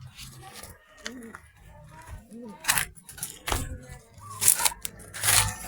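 Pigeons coo in a loft, several low rounded coos spaced over a few seconds, close and moderately quiet, mixed with rustling, scratchy clicks and a faint metallic jangle.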